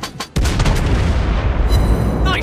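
Cruiser USS Worcester letting off a loud, close naval gun salvo in World of Warships Blitz, a sharp boom followed by a long rumbling tail, with a faint high whistle near the end.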